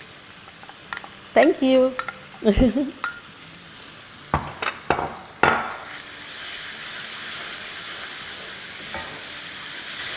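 Tomato puree frying with masala in a pot, a spoon clattering and scraping a few times before a steady hissing sizzle takes over and swells toward the end; a brief spoken word comes early on.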